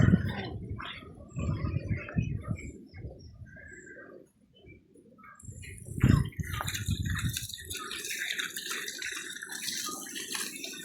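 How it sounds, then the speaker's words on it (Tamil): Water runs from a tap in a steady stream during the second half, for washing rice in Sri Lanka, with pigeons cooing nearby throughout. "தண்ணி திறந்து விடுறேன்."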